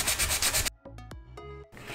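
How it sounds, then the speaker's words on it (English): Rough scratchy rubbing of a sanding block on chalk-painted wooden furniture, in short bursts separated by a quieter pause with faint ringing tones. "pressing with the sanding block until just a little bit of the wood starts to poke through."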